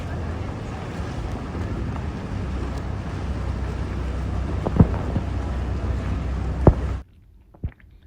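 Boats and launches moving along the canals of Venice produce a steady, broad rumble of engine and water wash, fairly close, with a couple of sharp knocks before it cuts to near silence at the end.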